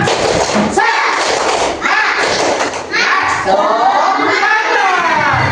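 A classroom group of children performs a rhythmic spirit clap, sharp thumping claps mixed with loud chanting and shouting voices in a close, lively burst.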